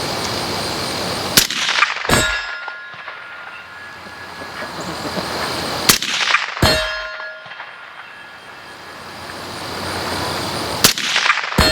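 A PSA Sabre .308 M110-style rifle fired at 200 yards on an outdoor range: three loud, sharp shots spaced several seconds apart, each ringing out over steady background noise.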